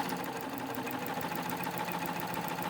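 A serger sewing machine runs steadily, stitching fabric to chain off the last threads for crochet-edge witch hat ruffles, a continuous fast mechanical whir with rapid regular ticking, close and alone without talk.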